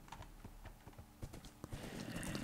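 Minecraft horse hooves clip-clop in a quick, uneven rhythm, faint and close, amid soft game ambience with no talk over them.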